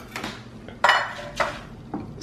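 A knife slicing rolled cinnamon roll dough into one-inch sections, giving a few short dull knocks of the blade on a board, close and spaced apart, with no talk.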